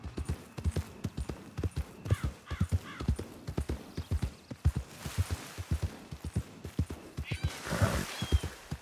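A horse in Red Dead Redemption 2 trots with crisp, rhythmic hoof clip-clops close by, steady then busier, with a brief whinny and snort near the end.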